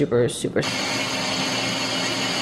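A high-power blender blending cashews, running with a loud, steady whirring roar after a brief burst of voice at the start.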